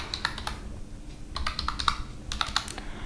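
Rapid bursts of keystrokes on a computer keyboard while writing code in an editor, crisp close clicks in two quick runs separated by a short pause, with no talk.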